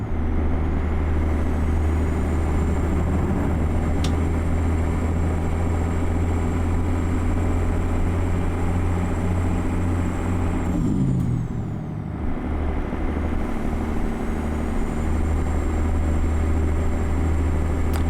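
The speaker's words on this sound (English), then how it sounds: "So this is an 805 horsepower engine." A Kenworth K100E truck with an 805 horsepower engine in American Truck Simulator, droning loud and steady with a whine overhead, then a brief dip as revs drop before the drone resumes.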